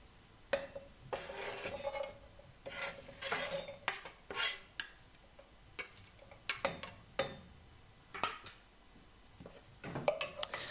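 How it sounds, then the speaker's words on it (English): Onions being stirred in olive oil in a pan over medium heat, a utensil scraping and clinking against the pan in repeated bursts with a faint sizzle underneath, close and moderately loud, no voices. "we're going to stir those over medium heat until they get translucent"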